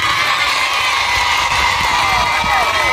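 A church congregation gathered for a joint mass at a secondary school claps and cheers loudly, a dense, continuous roar of voices and hands close by, with shouting mixed in.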